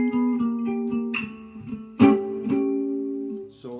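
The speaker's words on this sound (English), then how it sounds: "Or you can do that arpeggio, the single notes descending." Electric blues guitar plays a slow-blues turnaround arpeggio in single descending notes, each picked note ringing clearly up close, with a stronger accent midway and no talking.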